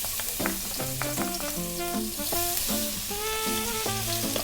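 Garlic frying in hot oil for vegetable fried rice, a steady bright sizzle close by, with tonal clinks and scrapes of utensils against the pan running through it and no talk.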